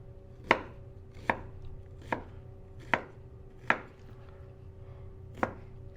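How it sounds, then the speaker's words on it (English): Onions being chopped with a knife on a board, six sharp, evenly spaced chops close up over a steady low hum, no talking. "Get your onions chopped up."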